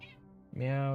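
A cat meows near the microphone, first a short faint mew and then a long, loud, drawn-out tonal meow that fills the second half.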